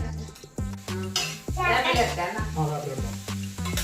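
Onions and chicken sizzle in a pan for a chicken roast, a steady frying hiss with a few scraping stir strokes from a utensil, all fairly close.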